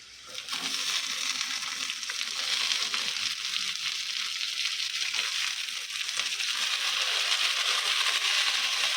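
Onion frying in a pan for a desi breakfast, a steady loud sizzle that rises as the onion hits the oil and continues without speech.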